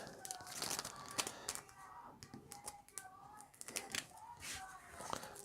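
A knife cuts open small plastic parts bags for a Hachette Battleship Bismarck model kit, giving faint close crinkling, rustling and snipping sounds in irregular bursts, with quiet speech at times.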